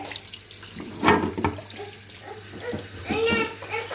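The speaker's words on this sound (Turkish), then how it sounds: "Şimdi havluyu Eren birazcık ıslatıyoruz tamam mı?" A faucet runs to wet a towel at a sink, the water splashing and gushing in uneven bursts close by while an adult and someone talk over it.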